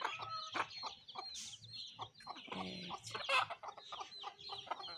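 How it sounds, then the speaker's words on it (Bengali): Large farmyard hens cluck and chatter close by in a rural homestead yard, with repeated short clucks throughout and a brief voice speaking. "দেখুন, বড় মুরগিগুলো চলে আসছে।"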